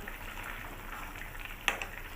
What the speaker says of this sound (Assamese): আকৌ ঢাকনটো এনেকৈ লগাই এইটো একদম ল' ফ্লেমত মই উতলিব দিম দেই